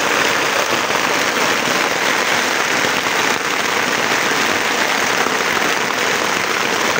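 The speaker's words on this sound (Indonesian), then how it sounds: "Hujan lebat." Heavy rain pours down on a small tent in a Sumatran forest in a steady, loud, dense hiss with no letup, close and continuous throughout.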